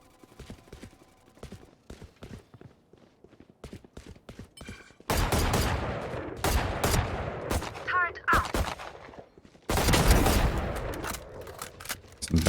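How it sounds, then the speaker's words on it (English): Video game gunfire, first a quick run of faint, rapid shots, then loud, dense volleys of bursts and booms, with a brief lull between heavy barrages and a voice talking quietly over the quieter stretch. "Some bad shooting, but it got there."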